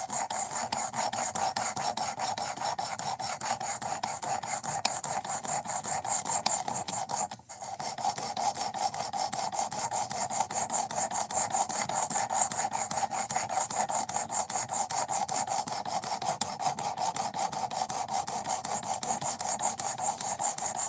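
Steady rasping scrape of a knife blade drawn against a sharpening abrasive to wear marker off the bevel, continuous and close for the whole stretch, with one brief pause midway and no voices.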